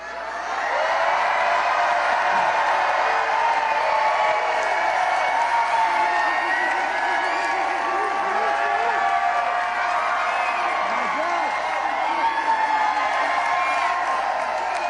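A large crowd at a Biden campaign rally in Detroit, Michigan, roars with sustained cheering, whoops and clapping, loud and continuous with a voice mixed into the din.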